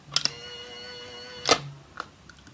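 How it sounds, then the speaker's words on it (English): A few sharp mechanical clicks from a Babyliss Pro Perfect Curl hair curler, one pair near the start and another cluster midway, with a faint electrical hum between them. "That's the curling contraption."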